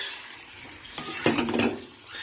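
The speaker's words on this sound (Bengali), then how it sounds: "একটু কষিয়ে নিই, তারপরে জল দেবো" Green jackfruit with shrimp and MSG sautéing in a pan before water goes in: a short burst of spatula stirring and scraping with soft sizzling, over a quiet background.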